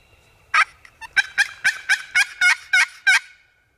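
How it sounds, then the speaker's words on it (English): A wild turkey gobbles loudly at close range during an Indiana spring hunt, one sharp call followed by a quick rhythmic string of about eight rapid bursts, with no talking. "Was that a gobble behind us?"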